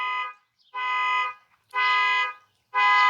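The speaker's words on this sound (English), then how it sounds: "that alarm is going off and nobody is shutting it off" An alarm going off outside sounds in loud repeated bursts of steady electronic tone, four pulses with short silent gaps between them, and no voices alongside.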